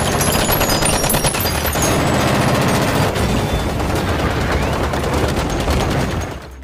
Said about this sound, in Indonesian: seorang petinggi Kamizono muncul dengan senjatanya dan menembaki mereka